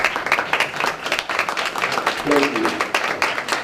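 Audience applause at a city council meeting, a steady dense wash of clapping across the room with a brief spoken thanks over it.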